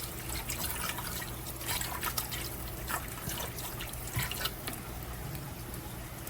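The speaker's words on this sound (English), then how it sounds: "so we're gonna add some water" Water running into a cooking pot to steam food in a home kitchen, a steady trickling pour under light background noise, with no talking.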